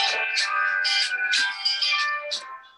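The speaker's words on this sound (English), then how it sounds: "That's your phone." A mobile phone rings during an onstage literary conversation, playing a loud, bright electronic melody with repeated tonal phrases that fills the short clip.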